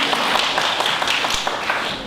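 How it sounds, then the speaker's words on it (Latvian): Audience applause at a September 1st ceremony in a Latvian music and art school, a loud, steady, dense clapping from a sizable crowd, close and continuous throughout. "Aplausi."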